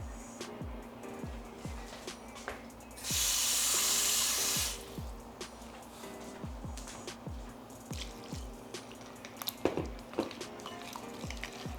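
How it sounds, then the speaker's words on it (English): Water is poured into a chunky peanut butter sauce in a brief, steady splash of about a second and a half, set against a faint background of regular soft thumps and ticks. "I'm gonna add a little water to this."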